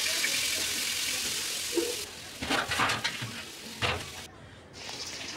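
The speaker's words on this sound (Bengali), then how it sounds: "এখন ভেন্ডি ভাজিগুলো দিয়ে দেব।" Okra (bhindi) frying in a pan, a bright steady sizzle at first that gives way to quieter frying with intermittent clatter and scraping bursts as it is stirred.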